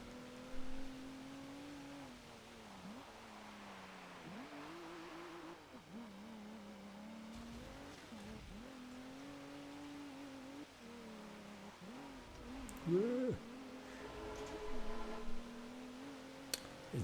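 Race car engines from Forza Motorsport 7 drone and rise and fall through gear changes around a wet track, with a brief burst of tire squeal partway through, steady and close.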